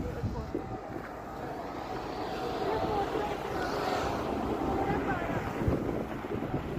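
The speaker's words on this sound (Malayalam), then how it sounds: "അതിഭയങ്കരമായ കാറ്റാണ് നമുക്ക് സഹിക്കാൻ പറ്റില്ല" Strong cold wind roars and buffets the microphone steadily on a mountain at 13,700 feet in Arunachal Pradesh, with gusty rumble throughout and a faint voice beneath it.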